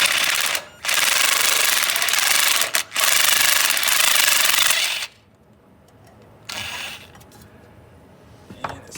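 Loud pneumatic impact wrench rattling a bolt loose on a David Brown 990 tractor, two long bursts with brief gaps, then quiet before a shorter, softer burst near the end.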